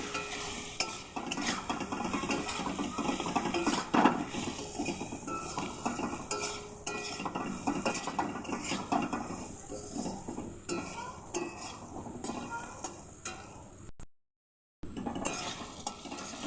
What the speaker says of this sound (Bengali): ভালো করে নাড়াচাড়া করে লাল লাল করে ভেজে নেব